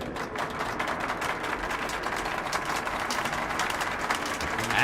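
Audience applause at an exhibition show in the Bolshoi area of Metro Last Light Redux: steady, dense crowd clapping that holds at an even level throughout, a little distant.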